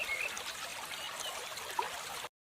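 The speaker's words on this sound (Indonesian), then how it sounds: "suara aliran sungai dan kicauan burung malam" A river stream flows in a Sumatran forest at night, a steady faint hiss of running water that continues evenly before cutting off abruptly.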